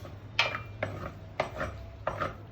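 Tantuni meat stirred in a pan, with four distinct scraping, clattering strokes at a steady rhythm about every 0.6 seconds, close and moderately loud over a low burner hum.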